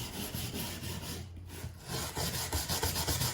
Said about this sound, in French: vous travaillez avec cette brosse dans le sens du bois